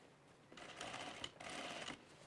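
A home sewing machine stitching a camp shirt collar seam runs in two steady bursts, close and moderately loud with a brief pause between them, no talking.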